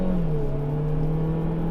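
A 2017 Chevy Cruze hatchback with a 1.4-litre four-cylinder turbo engine hums from inside the cabin, a steady low drone with its pitch dipping slightly, then holding even and moderately quiet.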